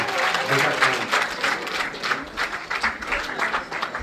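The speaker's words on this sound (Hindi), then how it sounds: "इनके लिए जोरदार तालियां हो जाए।" Loud applause from the audience at the close of a two-day outreach programme in Kargil, Ladakh: a steady, dense wash of clapping that fills all four seconds, with voices mixed in.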